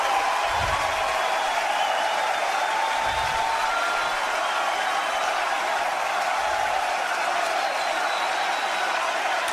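Loud, continuous crowd cheering and applause from the Masters golf tournament as Tiger Woods wins, relayed on radio, a sustained roar with a few low thumps underneath.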